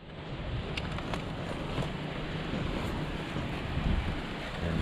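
Strong wind rushes outdoors during a wild dove hunt, a steady broadband roar buffeting the microphone, fairly faint and continuous, with a few faint ticks over it.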